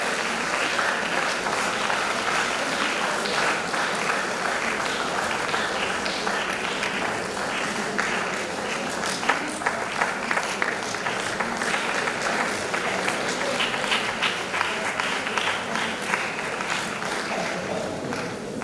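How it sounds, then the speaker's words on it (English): A crowd at an International Women's Day gathering claps continuously, welcoming an arriving guest. The applause stays thick and even throughout, with scattered sharper hand claps standing out and faint voices mixed in. "Can we keep clapping until she comes here,"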